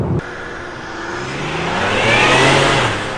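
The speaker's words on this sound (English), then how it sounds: "This is what the engine actually sounds like." A boosted, finely tuned car engine revs up after a brief cut, rising in pitch and loudness to a strong whine that then eases slightly, heard close with no talking.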